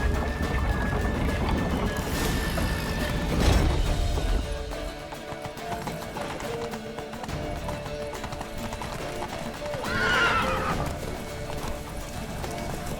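Hooves clop rapidly in a galloping rhythm in The Witcher 3 video game, with a horse whinnying sharply near the start and again later, over a busy background.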